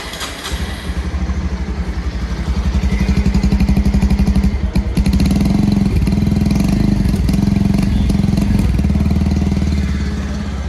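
A Bajaj Pulsar 125 motorcycle of the 2023 OBD-2 model runs steadily close by, its engine idling with a throbbing, clattery pulse and a few revs, loud and without talk throughout.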